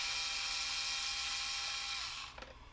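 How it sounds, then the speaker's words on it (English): A power screwdriver drives out screws from a Fisher-Price sloth toy, giving a steady high whine that runs close and loud for over two seconds before winding down, followed by a few small clicks. "we're going to remove these 7 screws here along the outside edge"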